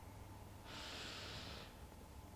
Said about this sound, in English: Breathe in,